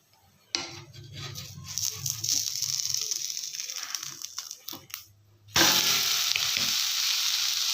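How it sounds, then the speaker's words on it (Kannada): Rava uttapam sizzles in a pan, with clinks and scrapes of a spatula as it is flipped midway, after which a louder, brighter frying hiss surges up close. "ಇವಾಗ ಉತ್ತಪ್ಪ ತಿರು ಹಾಕೊಳ್ಳೋಣ"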